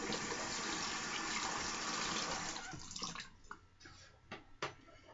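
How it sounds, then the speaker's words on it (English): Water runs steadily from a tap into a basin in a barbershop setting, a loud broadband rush for the first few seconds that then cuts off, leaving a few sharp drips and small splashes. "I'm going to add just a little bit of water"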